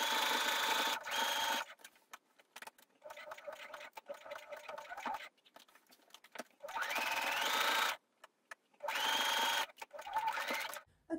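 A sewing machine stitches the side splits of a dress in several bursts of rapid whirring, separated by quiet pauses for pivoting and turning the fabric.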